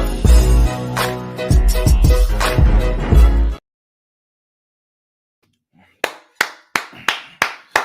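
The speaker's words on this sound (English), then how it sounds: "a round of applause, a round of applause, a round of applause" A loud stretch of tonal, music-like sound stops abruptly, then after a silent pause a single person claps slowly and steadily, about six sharp claps.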